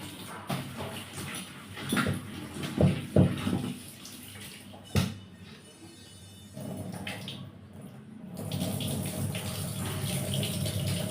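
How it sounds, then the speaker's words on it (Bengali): Vegetables being washed under a running kitchen tap, with intermittent splashing and clattering of produce in water, a quieter stretch of flowing water midway, then steady running water again. "আমি দেখো এখন সবজিগুলো ধুয়ে নিচ্ছি"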